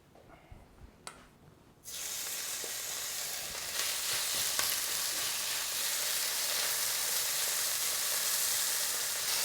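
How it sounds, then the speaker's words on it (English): Skirt steak sears in a film of extra virgin olive oil over a flame, a loud, steady sizzle that bursts in after a quieter start and holds strong to the end. "All right, I just put the skirt steak in."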